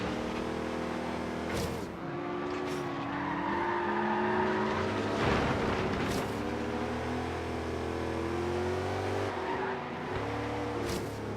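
Engine noise from a car in the racing game Forza Horizon 3, a steady loud drone with shifting pitch and occasional sharp bursts like skidding tires, continuous throughout with no talking.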